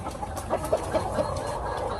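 Roundhead gamefowl, Albany and sweater crosses, cluck softly in a short series of calls at feeding time, close by over a low background murmur.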